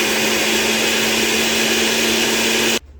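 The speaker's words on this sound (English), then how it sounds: "so in goes my tomatoes. And I am going to use the puree setting" A blender on its puree setting whirs steadily through diced tomatoes, a loud continuous motor drone with a constant hum, running alone for nearly three seconds before cutting off abruptly.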